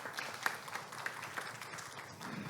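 A crowd claps at an award ceremony for research institutes, a short burst of steady applause heard at moderate distance.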